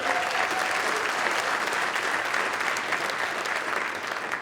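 A crowd at an inaugural remarks event claps steadily and densely for the whole stretch, a sustained wash of applause that eases slightly toward the end.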